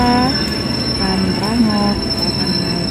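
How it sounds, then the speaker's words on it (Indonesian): Wheels of the Pangrango passenger train from Sukabumi squeal loudly in repeated high, sustained whines as it arrives at Bogor station, over a steady rumble of rolling stock close by. "Dan ini keretanya pun telah tiba"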